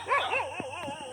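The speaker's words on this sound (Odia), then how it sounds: "କାହାକୁ ଦେଖି ଭୁକିଲେ।" Dog barking close by in a rural yard, several short yips and whimpering barks in quick succession over about a second.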